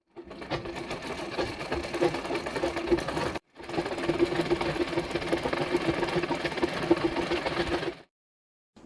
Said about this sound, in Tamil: இப்போ நம்ம தைக்க போயிடலாங்க.